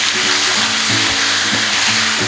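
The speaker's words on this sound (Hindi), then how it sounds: "मैं इसके अंदर ये चिकन शामिल कर दूँगी और चिकन को तब तक घी के साथ पकाना है जब तक इसका कलर चेंज नहीं हो जाता।" Chicken pieces fry in ghee with ginger and garlic in a karahi, a loud, dense, continuous sizzle heard up close with no talking.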